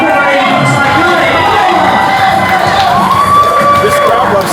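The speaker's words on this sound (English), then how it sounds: "This crowd loves Psychotic as well." Indie pro wrestling crowd cheering, whooping and shouting steadily throughout, a loud dense roar with children's voices mixed in.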